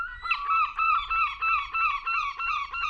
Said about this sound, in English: with these seagulls in the background